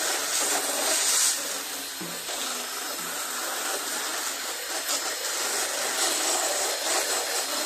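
A rusty valve on a Coast to Coast front-tine tiller is being roughed up by hand, giving a steady, close, abrasive scraping and rubbing hiss that runs the whole time with no talk.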